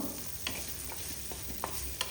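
Fish sizzling and being stirred in a frying pan, a steady crackle with a few sharp scrapes of the spatula, close and fairly quiet with no voices.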